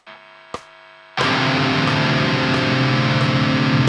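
A distorted metal guitar chord struck once on an electric guitar, ringing loud and sustained after a brief muted pick noise, with no voices.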